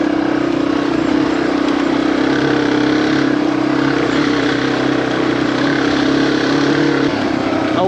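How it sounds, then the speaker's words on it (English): A Yamaha TW200 motorcycle with worn exhaust baffles runs continuously on a trail, its engine a loud steady drone throughout, close up, with wind noise. "Old T-Dub's exhaust is getting, the baffles are getting worn out in there."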